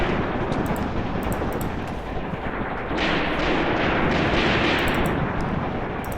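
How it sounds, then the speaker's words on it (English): A tank attack with gunfire and explosions in Graviteam Tactics: Mius Front, a dense, continuous roar of battle that grows a little louder partway through. "Let's go with an aggressive attack from the tank."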